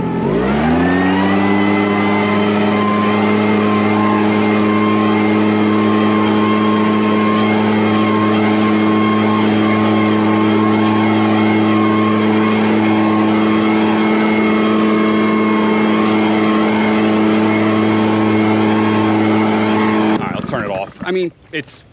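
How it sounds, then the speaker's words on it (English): A Tomahawk turbo-boosted backpack leaf blower, also built as a mosquito fogger, roars at full power against wet leaves left over winter, a loud steady engine drone held for about twenty seconds before cutting off abruptly. "as a backpack blower, plenty powerful, no issue"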